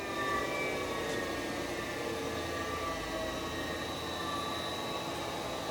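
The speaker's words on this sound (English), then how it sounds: "So you can just hear the work head." Work head of an 8" x 20" Tru Tech Systems OD-8-20 CNC cylindrical grinder with a coolant system, running as a steady, even mechanical hum with faint tonal whine lines, continuous and unchanging throughout.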